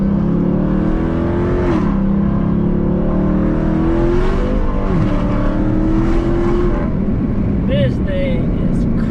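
A Dodge Charger Hellcat engine pulls hard toward top speed, a loud, close, sustained roar that climbs and dips with gear changes, heavy wind and road rush underneath, and a brief squeal near the end.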